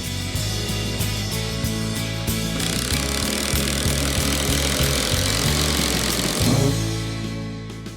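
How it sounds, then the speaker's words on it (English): An impact driver rattles in rapid bursts while driving screws into Wolf PVC deck boards, loud and close with a buzzing hammering rhythm that winds down near the end. "I do recommend using an impact driver so you don't strip out the head of the screw."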